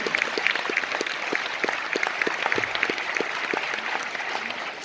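An audience at a Nicola Sirkis event in Roubaix applauds steadily, a dense wash of claps with distinct individual hand claps standing out, sustained for the whole stretch.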